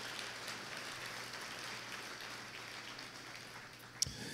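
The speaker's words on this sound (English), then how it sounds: "Please give them a big round of applause." A luncheon audience at a Boys & Girls Club event applauds a sponsor, the clapping faint and distant, a steady rain-like wash that ends with one sharp knock.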